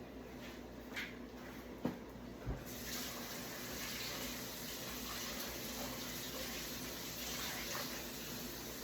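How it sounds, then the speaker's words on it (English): Hot water is poured into a bowl of oatmeal, making a quiet, steady trickling stream that runs for several seconds after a couple of brief knocks at the start. "So I added just a little hot water to mine."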